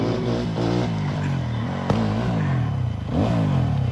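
A new motorbike revs while being ridden in a wheelie, its engine whine climbing and falling in repeated surges, with a sharp click midway, heard close and loud.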